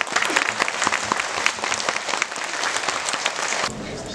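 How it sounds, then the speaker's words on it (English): Loud, sustained applause from a crowd at an elementary school Veterans Day performance, dense clapping throughout that thins slightly near the end. "Why don't you give another round of applause for Cindy and Elaine on those solos, please?"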